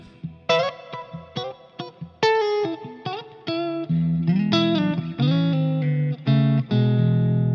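Clean electric guitar playing a short melodic phrase of plucked notes and chords, with a light reverb tail ringing after each note.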